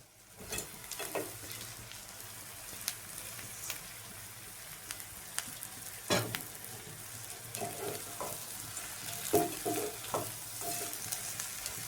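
Prawns fry in a pan with a soft, steady sizzle broken by scattered crackles and pops, plus a few scrapes of stirring, with no one speaking.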